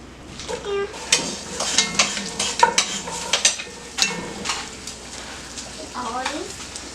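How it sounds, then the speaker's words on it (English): Onions frying in a pan for chili beans, sizzling close by under repeated spatula scrapes and clatter, with a person talking over the cooking noise. "We're going to put the onions in."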